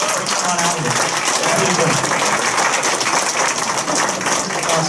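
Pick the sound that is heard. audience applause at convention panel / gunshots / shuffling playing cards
audience applause at convention panel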